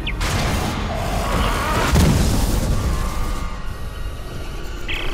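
A Dead Space video game explosion gives a loud, rumbling blast with a sharp burst near the middle and a long roaring tail, and debris-like crackle runs throughout.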